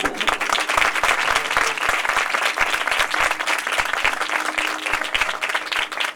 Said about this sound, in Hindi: आए यीशु मसीह के लिए भरपूर ताली बजाएं